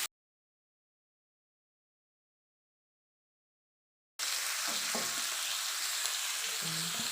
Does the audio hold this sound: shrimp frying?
yes